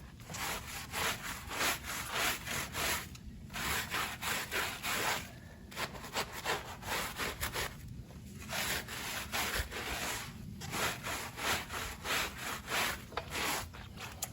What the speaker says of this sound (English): take our wheel scrubber